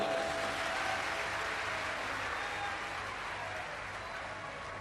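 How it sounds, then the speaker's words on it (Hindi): A large crowd at a live Shiv Purana religious discourse in Jashpur, Chhattisgarh claps continuously, producing a dense, even wash of applause that fades only slightly over several seconds. "एक बार जोरदार ताली बजाओ।"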